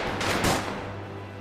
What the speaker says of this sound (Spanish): el sonido de los disparos llenaban el aire